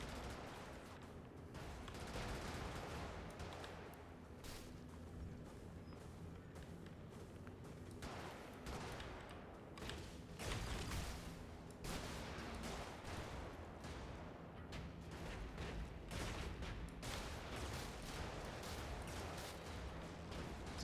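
Sustained heavy weapon fire from the fire-through cannon in the video game Brigador, a dense rolling barrage of booming shots with rumbling low end that carries on steadily and loud throughout.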